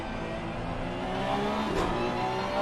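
Porsche Cup race car on the Snetterton circuit in a sim racing game, its engine droning steadily then building as power is put down, loud and continuous.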